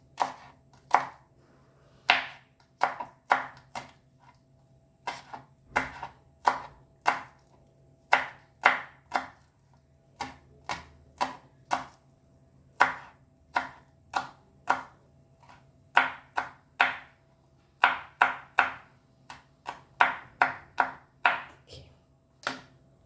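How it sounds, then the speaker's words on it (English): Chilies chopped finely with a knife on a board, a long series of crisp, close thuds in uneven bursts, sometimes quick runs, sometimes single strokes, with quiet gaps between. "And now we'll cut our chilies."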